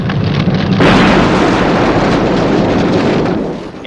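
A burning building collapses in a loud, sustained roaring rumble that bursts in after a brief lull and slowly fades at the end.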